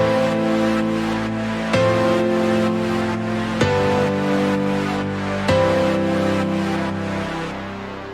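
Layered EDM piano chords and a sidechained synth play together in Cubasis 3, making a dense, loud, steady electronic loop. The chords change about every two seconds, and the mix pumps rhythmically.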